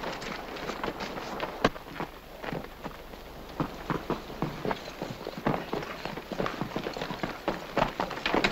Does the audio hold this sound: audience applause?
no